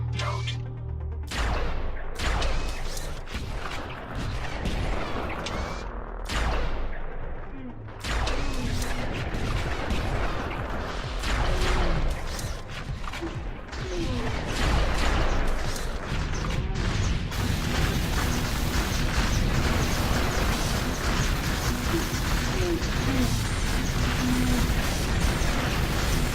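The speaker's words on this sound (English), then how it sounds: "So, lightning cannon, very effective against amassed enemies." Lightning cannon firing in the video game Sanctum during a mine level, giving continuous dense crackling blasts and crashes layered over battle noise that grows louder and busier toward the end.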